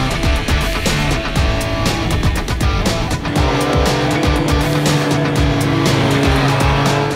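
A Triumph Street Triple 765 RS motorcycle revs hard on a road in Catalunya, Spain, its loud, near engine rising and falling through gear changes with steady wind noise, and no talk over it.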